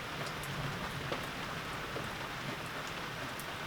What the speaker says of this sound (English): So it's pretty peaceful in the rain.